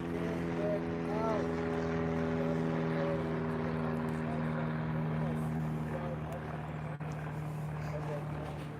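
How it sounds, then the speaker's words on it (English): A loud propeller airplane passes low overhead near Van Nuys airport at an outdoor classic car show in Woodley Park, its steady engine drone filling the whole stretch with a continuous, close rumble. "So that's why you're going to hear some loud planes going overhead."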